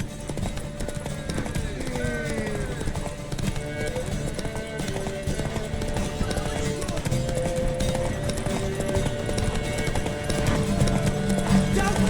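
Horse hooves clip-clop in a steady galloping rhythm during a horse race in the video game Witcher 3, with occasional whinnies, and voices talk over the galloping.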